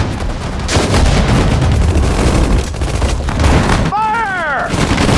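Gunfire in the Sudden Strike 4 Pacific War battle of Saipan, with dense overlapping shots and rumbling fire filling a short stretch, then a brief whistling sweep near the end.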